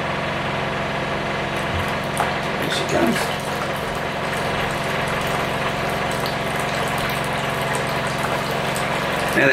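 A Rainman 12-volt desalinator watermaker pump, fitted on a Seawind 1160 catamaran, hums in a steady, continuous drone while running at 600 psi, with brief faint knocks and clatter over it.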